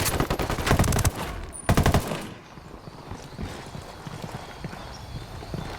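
Bursts of automatic gunfire in Ghost Recon Wildlands, two dense rapid volleys in the first two seconds, then quieter scattered shots and ambient noise.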